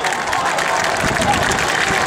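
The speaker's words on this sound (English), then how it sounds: "A round of applause for the first three jumpers, ladies and gentlemen." A large crowd at a military open house applauds parachute jumpers with dense, continuous clapping mixed with a murmur of cheering voices, loud and sustained.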